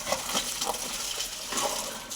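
A white cow laps water from a hose pipe held by hand, the gushing water broken by a rhythmic series of splashing, slurping pulses, close and continuous.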